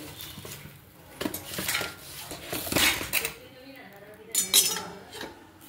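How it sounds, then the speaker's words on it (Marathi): Roasted black ghevda beans scraped and tipped from a pan onto a plate, with repeated metal spoon clinks and rattling scrapes against the cookware, fairly close and steady. "आपले घेवडे आता शेकवून झालेले आहेत, आपण काढून घेऊया प्लेटमध्ये"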